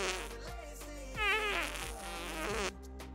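A comic fart sound effect, a short buzzy rasp with wavering pitch, standing alone against a low steady hum.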